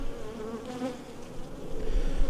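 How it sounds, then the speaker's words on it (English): Honey bees buzzing while being moved into a hive from frames, a steady close swarm hum with soft fluctuations and some handling rustle toward the end. "It's important that we find the queen as we move these bees in there."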